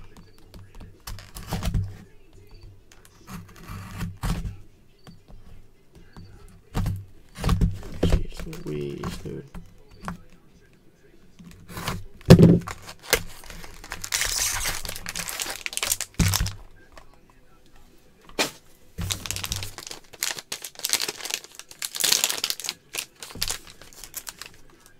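Basketball trading card packs from a 2020 Gold Rush Premier Players box break are torn open and handled, giving repeated crinkling, rustling and tearing of foil wrappers and card stock, with bursts of speech throughout.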